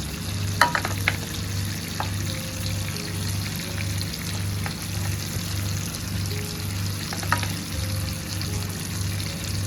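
Onions fry steadily in oil in a home kitchen pan, with a continuous sizzle, scattered stirring scrapes and clinks, and a low rhythmic background hum.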